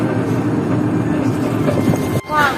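Inside a moving passenger train on a long journey, a continuous low rumble and rattle of the carriage under steady motion, with a brief dip near the end before the noise resumes.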